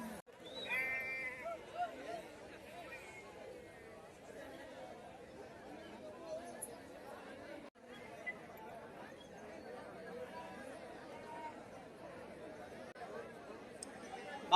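Sheep and lambs bleat at a busy livestock market, with several calls early on and more scattered through the clip under constant crowd chatter and nearby talking.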